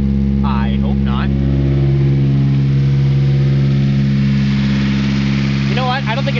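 A brand-new Nissan SR20DET engine idles with a loud, steady, close rumble, while people talk briefly over it.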